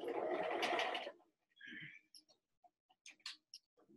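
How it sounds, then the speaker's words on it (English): A sewing machine runs in a short, close burst while back tacking a quilt strip, followed by scattered small clicks and taps. "just going to back tack on that a little bit. Just to make sure it's nice and secure at that edge."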